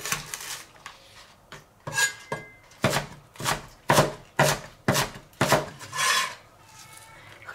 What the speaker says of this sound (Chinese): 准备两颗小葱，咱们给它切碎。